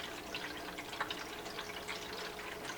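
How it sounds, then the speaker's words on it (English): Water trickles and splashes continuously in a Drinkwell pet fountain, a soft, close, steady patter of small drips with no talking. "So we have it hit more towards the top, it's a little less of a trickle sound."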